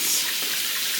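Tap water runs steadily into a kitchen sink to rinse food, a close, even hissing splash throughout the short moment.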